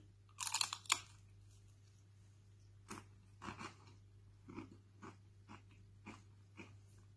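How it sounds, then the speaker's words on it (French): A crisp potato chip topped with Kiri cream cheese is bitten with a loud crunch, then chewed in a series of softer, evenly spaced crunches close to the mouth. "Je coupe comme ça et je croque."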